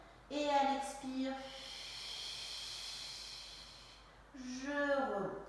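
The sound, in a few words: exhaling breath during a Pilates exercise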